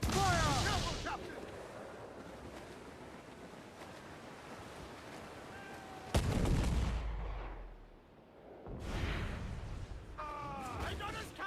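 Heavy ship cannon blasts boom across open water in Assassin's Creed IV Black Flag, a loud broadband burst breaking over rolling surf and wind, with a second volley later while crew members shout orders in between.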